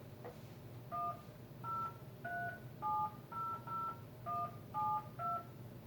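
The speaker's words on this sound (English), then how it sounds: "Using your keypad, enter your account number or social security number" Telephone keypad DTMF tones enter an account number: about ten short two-note beeps at an uneven pace, clear and close over a faint hiss.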